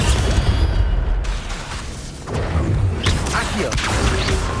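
An Incendio fire spell is cast in Hogwarts Legacy, producing a loud, dense roar of crackling blasts and booming impacts that fills the whole stretch, dipping briefly before surging back.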